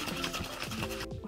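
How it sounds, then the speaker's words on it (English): Rapid rhythmic rattling and sloshing from a cocktail shaking tin dry shaken without ice, with egg white and gin inside, a fast back-and-forth beat close up, stopping abruptly near the end. "we're actually gonna do a technique called a dry shake, which basically means shaking without ice"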